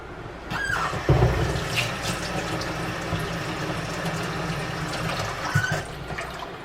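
Tap water runs steadily into a bowl as meat is rinsed for Southern-style collard greens, a continuous close splashing wash with a couple of brief louder gushes, no talking.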